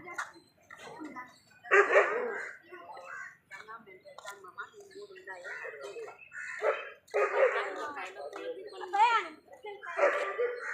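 Dogs bark repeatedly in short bursts, fairly close, on a road near a temple, mixed with people talking over them.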